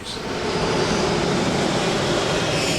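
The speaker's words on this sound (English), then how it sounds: "We're going to bring in about 155 jet aircraft tonight." Jet aircraft at a busy airport at night: a steady, loud roar of engine noise that swells slightly and then holds, with a faint whine above it and no voices.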